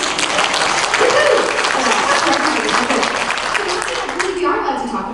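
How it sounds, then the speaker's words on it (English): Steady applause from a crowd in a convention panel room, dense and continuous throughout, with no break in the clapping. "Yeah, we can clap for them."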